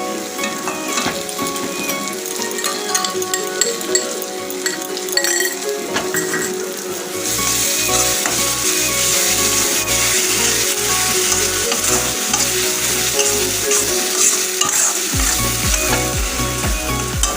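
Mustard, poppy seed and green chilli paste fries with bhola fish in a hot pan, making a continuous loud sizzle and spatter, punctuated by light clinks of a utensil against the pan.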